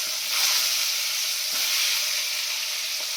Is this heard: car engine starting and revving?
no